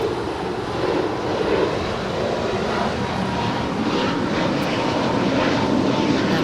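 A Spirit airliner bound for Chicago O'Hare roars loud and steady while departing LAX, a broad continuous engine rumble heard from on board with no talk.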